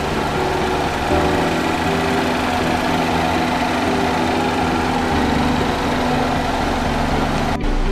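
A 2013 Chevrolet Equinox with a 2.4 liter Ecotec engine idles, a loud, steady, close-up rumble with constant hum and no talk over it.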